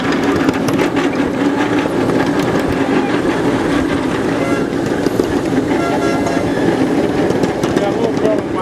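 A model train engine runs on the Largo Central Railroad layout, giving a continuous rolling rumble with light clattering track clicks. Faint voices murmur in the background.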